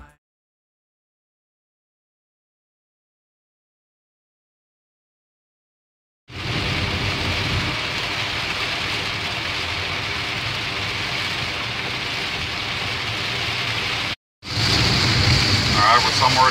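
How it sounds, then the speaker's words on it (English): Heavy rain while driving somewhere in North Carolina starts after several seconds of silence, then becomes a steady, loud, dense roar that drops out for a moment and then continues. "Somewhere in North Carolina, getting a lot of rain."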